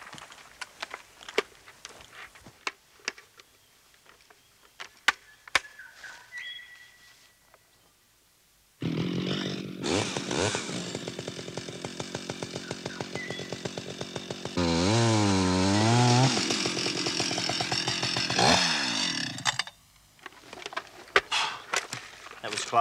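A chainsaw deliberately kicking back during a safety demonstration: after quiet handling noises, the engine roars loud and close for about ten seconds, rises sharply and wavers in pitch, then cuts off to faint clatter.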